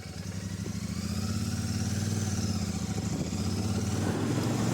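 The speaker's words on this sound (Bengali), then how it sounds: "গাড়ির একটু থ্রটল ঘোরালেই থ্রটল রেসপন্স মারাত্মক, গাড়ি খুব টানছে।" A 2024 Royal Enfield Shotgun 650 twin with 52.3 Nm of torque runs close by, its engine throbbing evenly and building under the throttle into a strong, continuous drone.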